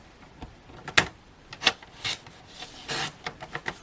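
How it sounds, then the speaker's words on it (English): Paper is trimmed on a craft paper trimmer, with a few close, sharp slicing and sliding strokes and small taps scattered through an otherwise quiet moment. "So what I'm doing is I'm just lining my edges up with the white bit on my trimmer."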